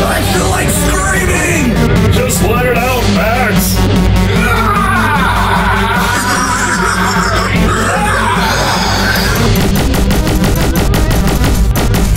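Spaceship weapons fire in a space battle with rapid bursts of blasts and rattling gunfire, loud and dense, layered with music, effects and shouted voices.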